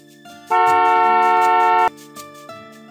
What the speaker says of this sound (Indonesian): terbangun oleh suara klakson setelah tanpa sengaja menekannya